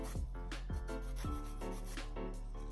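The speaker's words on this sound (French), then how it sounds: "Bien limer, bien arrondir." A fingernail is filed with a nail file in soft repeated strokes during an at-home manicure, the rasping faint beneath steady background music.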